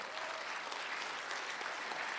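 A congregation in a church claps during a sermon, a dense, steady wash of many hands applauding nearby without pause for about two seconds, with no speech clearly audible over it.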